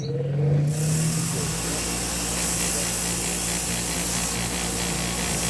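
A wire wheel spins against the bolt heads of a Suzuki LS650 Savage motorcycle carburetor, making a steady, loud, close-up whirring grind that runs continuously after a brief start.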